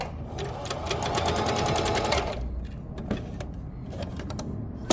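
A home sewing machine stitching in a fast, steady whirring rattle that runs for about two seconds, then slows into a looser, slower chatter, heard close by with no talk.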